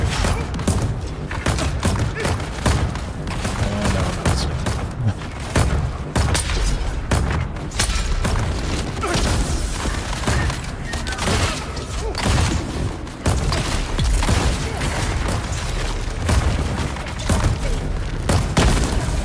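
Sustained barrages of gunfire and heavy booms in the video game Dune: Awakening, loud and dense throughout, with constant dull thumps layered over one another. Nobody speaks.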